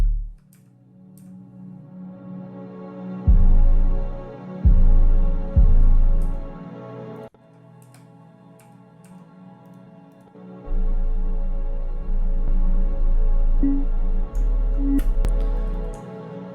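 Deep, booming 808 bass hits sustain low under a sparse beat, several long notes with ticking percussion on top, loud and close.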